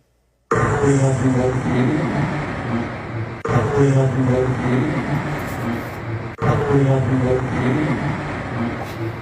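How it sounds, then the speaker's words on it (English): A jet airplane passes by with a propeller-like engine drone, steady and fairly loud, swelling and repeating in three similar passes with harmonic whine throughout. "Listen for that high-pitched prop sound. Remember, this is a jet."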